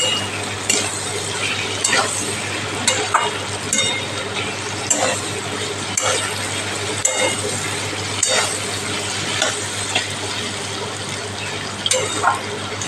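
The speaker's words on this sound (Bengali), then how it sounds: "এগুলো দিয়ে ভালো করে ভাজতে হবে" Ingredients fry in a pan for Bombay duck fish jhura, a continuous close sizzle with repeated scraping and clinking strokes of a spatula stirring at an irregular rhythm, and a low steady hum underneath.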